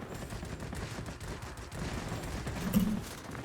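Rapid bursts of 23mm cannon fire from an IL-10M attack plane in World of Warplanes, a dense rattling stream of shots over steady engine roar, with a sharper burst near the end.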